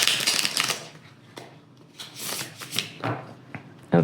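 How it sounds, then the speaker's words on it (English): A tarot card deck being reshuffled by hand: several quick riffling bursts of papery card flutter, close and crisp, separated by brief pauses and followed by a few shorter shuffles. "first I'm going to reshuffle my deck"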